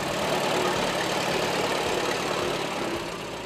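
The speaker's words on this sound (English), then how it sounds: "This is a 1919 Advanced Rumley. The tractor is a two-cylinder kerosene" A 1919 Advance-Rumley two-cylinder kerosene tractor engine runs steadily at an antique machinery fair, a dense continuous rumble heard alone with no talk, fading slightly toward the end.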